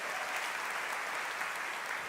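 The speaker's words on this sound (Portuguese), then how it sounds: "Vamos aplaudir mais uma vez bem forte ao Senhor" Loud, steady applause from a church audience, a dense wash of clapping that fills the whole stretch without a break.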